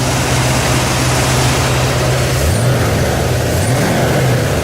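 A 1982 Ford F150 pickup's 351W V8 running after a fuel pressure regulator install: loud, steady low rumble close up with a constant drone, pitch dipping and rising briefly near the end.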